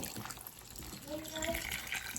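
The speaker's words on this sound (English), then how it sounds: "Add some water." Water is poured into glass jars packed with Japanese BBQ chicken and rice for canning, giving a faint, short trickle and splash close by.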